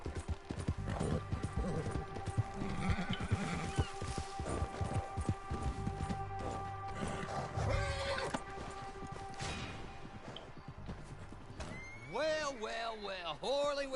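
Horse hooves clip-clop steadily in the Red Dead Redemption Online video game, mixed with other game sounds, and a horse whinnies near the end.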